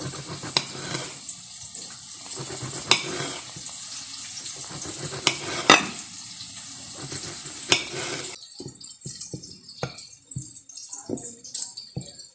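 Fish strips fry in oil in a pot for fish tacos, giving a steady crackling sizzle with sharp pops and spatters. The sizzle then drops to quieter, scattered crackles.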